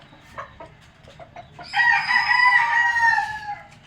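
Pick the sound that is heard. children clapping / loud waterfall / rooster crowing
rooster crowing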